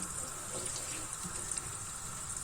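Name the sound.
water poured into a cooking pot for syrup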